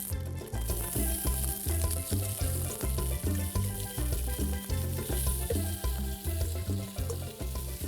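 Chopped onions sizzle and crackle steadily in a hot pan, a dense continuous frying hiss that stays loud and close throughout, with rhythmic stirring knocks underneath.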